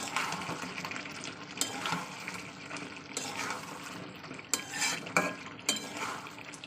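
Chicken kosha is stir-fried with garam masala in a pan, giving steady low sizzling with repeated scraping and clinks from the spoon against the pan, all at close range with no talking.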